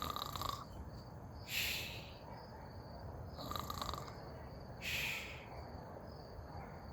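A sleeping woman snores softly, with three slow, rhythmic breathy snores spaced a couple of seconds apart over faint background hiss.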